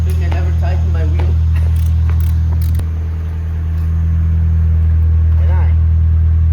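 Nissan S14 drift car engine running with a loud, steady low drone close by, with only slight swells and no sharp revs; a voice is briefly heard near the start.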